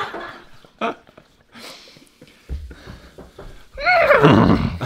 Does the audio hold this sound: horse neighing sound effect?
yes